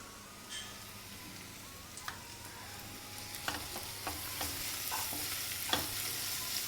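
Ginger garlic paste and turmeric frying in oil for a crispy okra fry, a quiet steady sizzle with scattered spoon taps and stirring scrapes, no talking.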